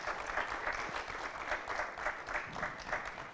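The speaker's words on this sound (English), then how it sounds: "Please give a round of applause to our excellent panelists here." An audience claps steadily for a few seconds, a dense, even patter of hands with no voices over it.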